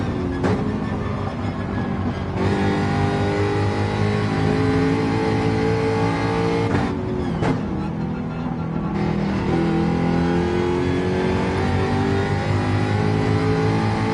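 A race car engine laps Brands Hatch in a racing video game, a loud continuous drone that holds high revs with brief dips for gear changes and braking, steady and close throughout.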